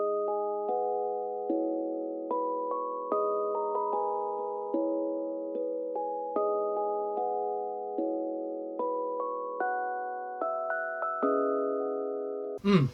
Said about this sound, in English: Nice little bell sound, nice little foundation to start with.